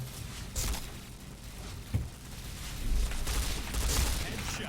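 P90 submachine gun fire in a video game, dense bursts of rapid shots over steady game background noise, with one sharper crack near the middle.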